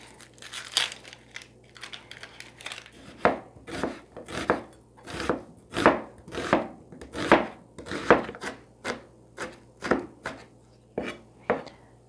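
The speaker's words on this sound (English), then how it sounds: "I'll chop the onion and the garlic" A knife chops a sweet onion on a cutting board in quick, rhythmic strokes, each crisp close-up chop landing clearly, about a dozen in an uneven steady run with no talking.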